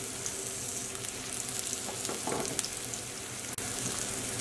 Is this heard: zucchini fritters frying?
yes